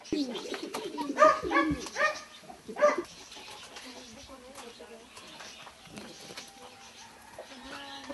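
A few sharp dog barks ring out nearby, followed by quieter background noise with faint distant sounds.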